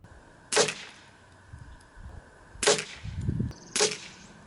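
Three sharp air rifle shots firing H&N Match Diablo pellets at a 25-yard target, each a crisp snap spaced about a second or two apart, with faint low thuds and rustling between.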